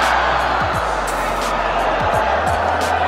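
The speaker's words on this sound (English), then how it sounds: "Listen to the crowd." Spectators at a badminton match between Jung Jae Sung & Lee Yong Dae and Markis Kido & Hendra Setiawan create a steady, roaring crowd din with cheering, loud and continuous, and a few faint shuttle strikes underneath.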